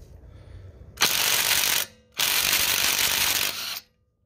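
A Hart 20V cordless impact driver with a 21 mm socket hammers on a car lug nut in two loud sustained bursts of rapid rattling impacts, split by a short pause.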